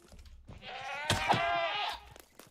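A goat bleats once in the Minecraft video game, a drawn-out wavering cry lasting over a second, close and clear, with faint game sounds around it.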